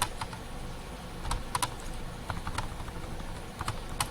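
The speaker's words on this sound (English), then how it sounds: "open your browser and then type localhost." Rapid typing on a computer keyboard, with close, crisp key clicks tapping out in uneven bursts over a steady background hiss.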